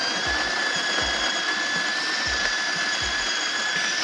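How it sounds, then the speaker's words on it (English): A DeLonghi La Specialista Opera espresso machine grinds espresso beans, giving a steady mechanical whir with a high whine and a few low clunks, close and continuous with no talk. "So I'm going to start grinding my espresso"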